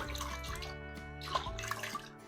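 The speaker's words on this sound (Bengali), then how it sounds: "আমি গামলাতে জল নিয়েছি। এটাকেও ধুয়ে নিচ্ছি।" Eggplants are washed by hand in a basin of water, giving soft, quiet sloshes and light splashes that rise and fall through the short stretch.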